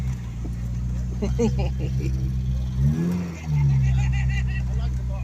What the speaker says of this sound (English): I like the tone of the engine